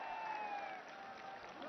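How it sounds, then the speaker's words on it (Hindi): Audience at a prime minister's inauguration ceremony gives a steady burst of applause, distant and faint, mixed with a sustained tone and some crowd noise. "जोरदार तालियों के साथ स्वागत।"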